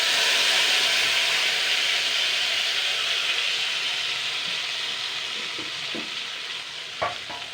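Spice masala sizzles loudly and steadily in a pan on medium heat alongside a fried egg, a dense continuous frying hiss with a few soft stirring knocks near the end.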